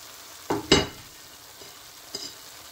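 Shredded cabbage tossed into vegetable chop suey frying in a pan gives two quick, loud sizzling bursts close together, then a softer crackle later on. No one speaks.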